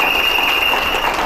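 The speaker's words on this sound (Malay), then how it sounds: "Tepukan bagi mereka" An audience at a company seminar claps for its executives, a loud, dense, sustained burst of applause throughout.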